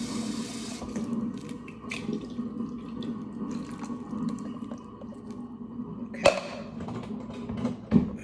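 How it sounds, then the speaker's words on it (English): Tap water trickles into a can of beans to loosen them, a soft, steady running stream near at hand, with a couple of sharp clinks of metal toward the end. "you add water to it to loosen it up."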